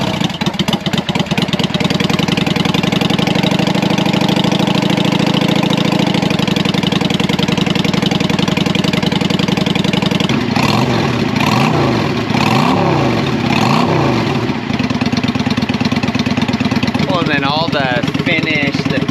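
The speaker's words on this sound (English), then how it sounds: "And now let's see what it sounds like with our new exhaust," A Yamaha V-Star 650 motorcycle with eBay drag pipes, baffles still in, idles loudly with a lumpy, throbbing beat, then the rider blips the throttle in several rising and falling revs near the end.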